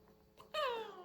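A cat lets out one short, close meow while being combed at a professional pet grooming session.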